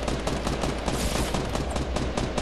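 Fortnite gunfire crackles loud and nearly nonstop: rapid, dense bursts of shots run throughout, with no talking.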